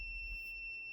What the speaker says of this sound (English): Yes, it has a continuity, you can hear the beeping, right?